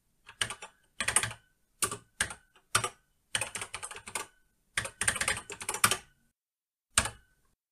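Keys clatter on an Acorn BBC Micro computer keyboard in short irregular bursts of quick presses separated by brief pauses, close and clear with no speech.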